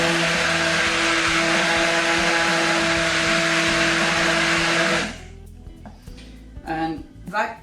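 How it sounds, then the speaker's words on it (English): A hand blender whirs loudly and steadily through homemade oat milk for about five seconds, then cuts off, leaving only faint clicks and light handling noises. "you need to blitz this once more, but this time I just do it with a hand blender"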